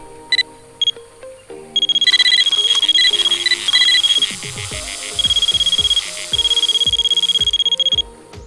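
Rippton Bite Keeper fishing bite alarms sounding close and loud: a couple of short beeps, then long bursts of rapid high-pitched electronic tones with brief pauses between them.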